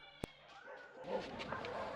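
Puppies at an animal shelter in a Ukrainian war zone yip and whimper close by: one sharp yelp, then a steady stream of whines and small cries, with faint voices in the background.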